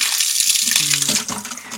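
Water runs from a tap at a farmhouse near Ramoji Film City, a close, steady gushing splash lasting the whole moment with a voice faintly underneath.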